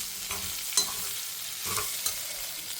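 Snake gourd sautéing in a pan, a soft steady sizzle with a few scraping stirs of a spatula, close and moderately quiet, no voices.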